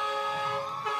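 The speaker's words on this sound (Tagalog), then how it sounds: "Yan! Yan yung busina!" A vehicle horn blares in one steady, loud tonal honk lasting about a second, heard alone without talk.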